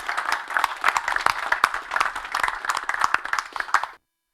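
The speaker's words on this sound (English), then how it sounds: "So I think a round of applause for all those who've won the trophies." A small audience at an annual general meeting claps for trophy winners, a steady patter of applause lasting about four seconds before stopping abruptly.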